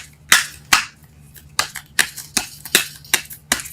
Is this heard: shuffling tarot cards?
yes